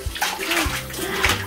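A puppy being bathed under a spray of running water, with a steady hiss and splashing that continues throughout with small sloshing shifts.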